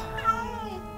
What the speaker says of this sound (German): Katze, halt doch mal das Maul.